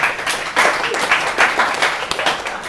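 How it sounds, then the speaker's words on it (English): A boardroom group claps together, a short burst of fairly loud, close applause with uneven rhythm, fading and picking up slightly over its length, no speech on top. "give them a clap, give them a clap"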